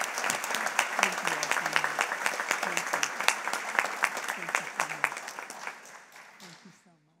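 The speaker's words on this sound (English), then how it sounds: "a big round of applause to all of these individuals and organizations" An audience at an awards luncheon applauds honorees, dense steady clapping at close range that carries on for several seconds and then tapers off into silence.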